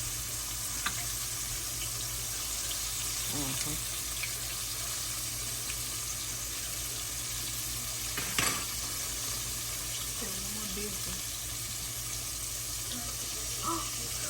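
Food fries in a pan of hot grease at home, a soft, steady sizzle and crackle carrying on throughout, with occasional utensil clinks and brief voices.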